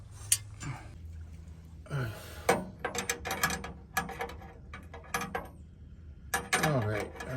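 A wrench clicking and ratcheting on a brake line fitting of an F600 truck, irregular metallic clicks and clanks in quick bursts with brief pauses, close by and fairly quiet.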